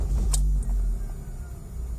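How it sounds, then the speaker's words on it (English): A Mazda car started with a proper key: a loud close engine crank and catch with a short bright click, settling into a low steady idle rumble. "I'll first start the car with a proper key"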